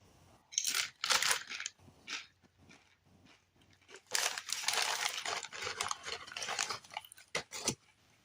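Doritos chips being crunched and chewed close up, irregular bursts of crisp crackling in two clusters separated by a quieter pause, with no talking.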